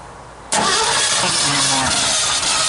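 After a quiet moment, an old Ford truck's engine cranks and catches with a sudden loud start, then settles into a rough, steady idle up close.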